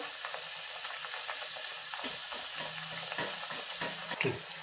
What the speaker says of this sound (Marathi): मीडियम आचेवरच ही पुरी आपल्याला छान तळून घ्यायची आहे